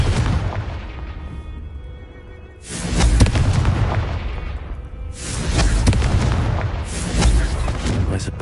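Blasts from the Confringo fire spell in Hogwarts Legacy shatter vases, with heavy booming explosions in two big bursts separated by a short lull, each followed by crackling debris.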